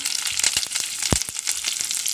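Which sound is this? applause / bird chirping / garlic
garlic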